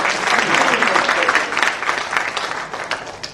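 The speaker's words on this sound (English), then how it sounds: "Give a big round of applause for this small child." Seminar audience applauding a small child, a dense, steady wash of many hands clapping close by that holds strong throughout and tapers slightly at the end.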